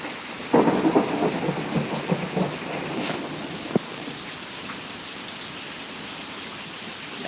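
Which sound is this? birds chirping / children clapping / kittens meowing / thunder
thunder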